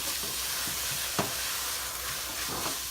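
Chicken fricassee with garlic and jalapeno sizzles steadily in a pan, a constant hiss broken by a few soft stirring scrapes and one sharper clink, heard up close with no talking.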